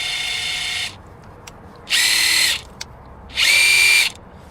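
A DeWalt cordless drill fitted with a 2 amp hour battery whirs in three short, loud bursts, each lasting about a second, separated by quiet pauses.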